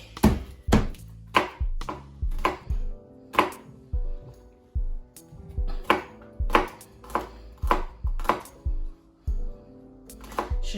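A knife chops smashed garlic cloves on a board in a steady run of loud, close, rhythmic thunks, about two strikes per second, with brief pauses between groups and no talking.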